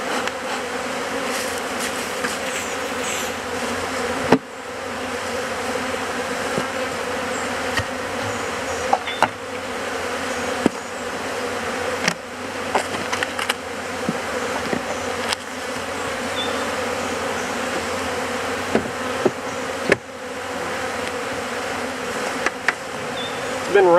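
Bees buzz densely and continuously around a busy hive during a swarm catch, a steady droning swarm with a few louder bees passing close, and no voices over it.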